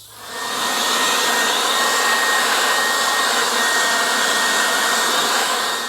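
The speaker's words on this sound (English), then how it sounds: "I just blew the tires dry, or the wheels dry, with that little Snap Fresh cordless blower" A small Snap Fresh cordless blower drying car wheels and tires gives a steady, loud, close whoosh of air that starts quickly and runs without a break for about five seconds.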